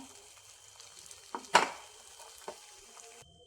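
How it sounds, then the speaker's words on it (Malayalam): Beaten egg white poured into a hot pan for a Kerala breakfast with egg and vegetables, a brief sharp sizzle that swells and then fades, with soft stirring clicks after it. "കലക്കി വെച്ചിരിക്കുന്ന മുട്ടയുടെ വെള്ള അതിലേക്ക് ഒഴിച്ചു കൊടുക്കാം."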